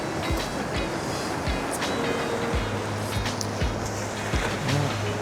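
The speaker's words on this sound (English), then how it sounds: "as these waves come in, come up here, hit the rocks, and then of course then they wash back again" Ocean waves surge and break against rocks at New Plymouth in a continuous roar, with repeated heavy thumps as each swell hits, close and loud.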